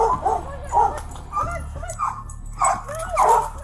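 A wounded dog whimpers and yelps in repeated high, pained cries close by, with a low rumble running underneath.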